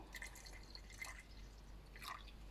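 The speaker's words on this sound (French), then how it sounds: "On va ajouter la phase aqueuse. Donc moi, je vais mettre mes hydrolats." Hydrosol poured slowly into a container while mixing a homemade body wash base, heard as quiet, close, intermittent drips and trickles with no talking.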